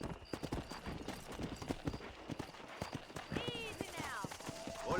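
A horse in Red Dead Redemption gallops with rapid rhythmic hoof clip-clops, joined near the end by a whinny, while a voice talks over it.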